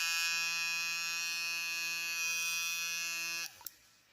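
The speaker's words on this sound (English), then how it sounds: "The vibrations are very nice and loud, but the toothbrush head barely even moves at all." Homemade sonic toothbrush buzzing loudly up close with a steady harmonic drone that vibrates continuously, then abruptly cuts off near the end, followed by a couple of faint clicks, no talk.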